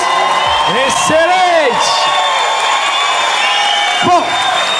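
A studio audience at a comedy show cheers and applauds loudly and steadily throughout, with whoops rising above the crowd while a host shouts excitedly over the noise.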